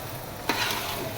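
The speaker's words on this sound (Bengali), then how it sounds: "চালটাকে একটু ভেজে নিই।" Rice hits a hot pan to be fried for plain pulao, bursting into a sudden sizzle that settles into a steady frying hiss, with no talking.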